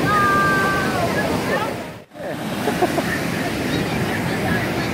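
Ocean surf at a beach rushes in as a loud, steady wash of breaking waves that briefly drops away and then swells back, with no talk over it.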